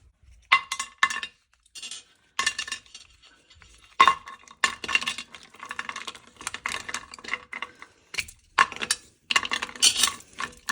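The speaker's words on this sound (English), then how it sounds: "I've got 3 chocolate oranges and I'm going to break them up and pop them into the" Three chocolate oranges are broken into segments and dropped into a slow cooker, giving a run of sharp clinks and crisp snaps that arrive in close bursts, with nobody speaking.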